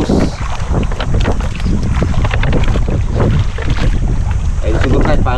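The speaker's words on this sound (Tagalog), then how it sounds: "Maalon, mahangin, maagos." Strong wind buffets the microphone over choppy sea water sloshing against a small fishing boat, steady and loud throughout, with a voice faintly present.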